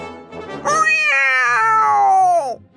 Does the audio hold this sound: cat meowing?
yes